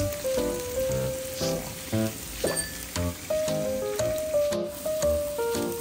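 Carrots frying in a pan, a soft sizzle running under background music, with occasional clinks from stirring; no talking.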